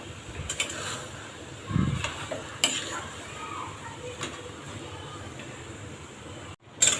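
A mango and jaggery preserve simmering over low heat in a pot, with soft scraping and occasional light clinks of a spoon stirring, close but quiet, and a sharper clatter at the end.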